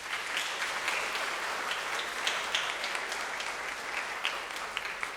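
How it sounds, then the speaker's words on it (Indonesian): Congregation applause at a Sunday baptism service in a church, a soft, continuous patter of many hands clapping that stays fairly distant and even throughout. "mari kita sambut dengan tepuk tangan"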